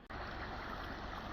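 Creek water flows steadily over stones at Nelson Creek, New Zealand, a close, continuous rushing babble with no talk over it.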